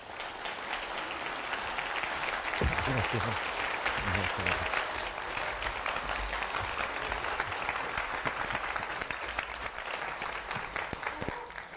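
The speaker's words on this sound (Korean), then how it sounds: "단상의 박수로 모시겠습니다." An audience in a lecture hall claps to welcome a psychology professor to the stage, dense and sustained applause lasting the whole stretch at an even level, with a few low thumps early on.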